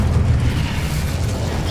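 Incendio fire spell blast in Hogwarts Legacy, a loud, deep, rumbling whoosh of flame that holds steady for under two seconds with no clear pause, heard alone with no voices.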